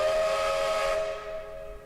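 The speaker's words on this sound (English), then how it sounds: "And the train keeps going." A single sustained train whistle blows steadily at moderate distance, then fades with a breathy hiss.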